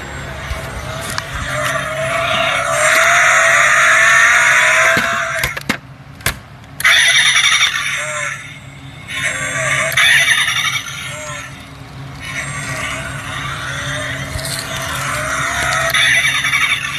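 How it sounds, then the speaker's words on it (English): A small pull-back toy rev car from a ninja mystery box whirs and skids with squealing friction-motor bursts, fairly loud and close, alongside people talking. "Oh, it's a rev car. Pull it back. Go."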